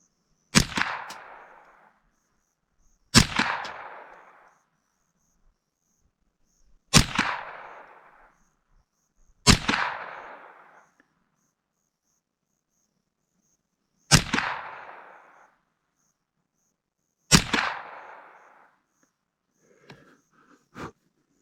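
Six sharp, separate shots from a Smith and Wesson M&P 15-22 rifle firing bulk .22 ammo, each a crisp crack with a short fading tail, spaced a few seconds apart outdoors, then a few faint clicks.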